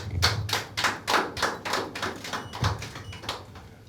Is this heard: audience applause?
yes